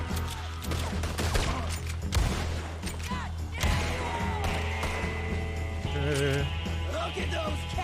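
Gunfire in the Red Dead Redemption 2 video game, a western shootout, with sharp shots and crashes scattered through a busy game soundtrack, loud and dense throughout.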